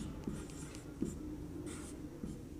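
Pen scratching out notes on paper during a Class 10 science lesson on light, several short quick strokes with soft scraping between them, close and fairly quiet, no talking over it.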